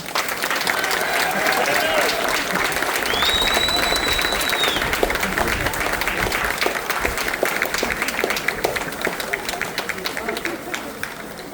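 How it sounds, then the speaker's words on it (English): A crowd at a mayoral reelection campaign announcement applauds loudly and continuously, with a dense, even layer of clapping, a whistle and some voices rising over it. "I got a lot of applause"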